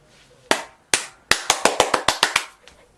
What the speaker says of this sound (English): That's positive clapping